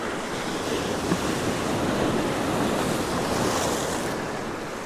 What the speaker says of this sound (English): I'm going to time it so I get the waves crashing over those rocks to get that waterfall effect